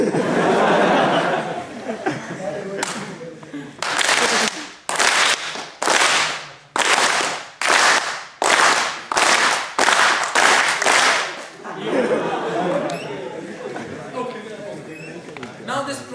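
An audience of students claps in a string of sharp, loud bursts, about ten short rounds of applause separated by brief gaps, with chatter and laughter before and after.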